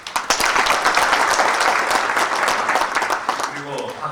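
An audience at a 2004 alumni admissions briefing for a teacher-education program claps steadily and loudly, a dense, sustained round of applause that tapers slightly at the end.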